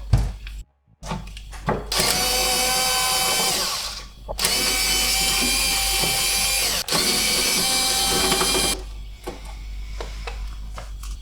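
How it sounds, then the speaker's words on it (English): A power tool unscrews the top row of screws on the back of a Spice Caliente pizza oven, whirring loudly in three sustained bursts with short pauses between them. "We just need to unscrew the three on the top."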